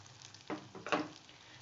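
Then mittai batter hits hot oil and frying starts with a few soft bursts of sizzling, quiet and close, with no voices.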